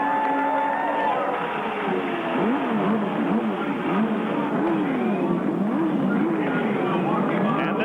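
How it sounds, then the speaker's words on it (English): CART IndyCar race car engines starting on the grid of a 25-car field at the Milwaukee Mile in 1993, a loud continuous mechanical roar with rising and falling revving whines throughout. "And this is what it looks like as the engine starts here at Milwaukee."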